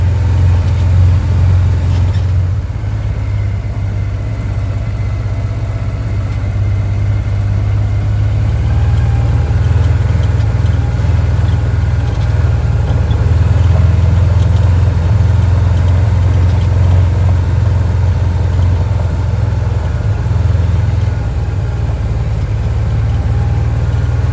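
A Can-Am off-road vehicle with a 1000cc engine idles steadily. The low, continuous rumble runs loud and unbroken throughout, with only slight fluctuations and no voices.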